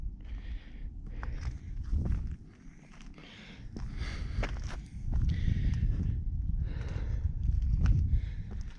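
Irregular footsteps crunch and scrape on rough ground, close to the microphone, with light wind noise in the background.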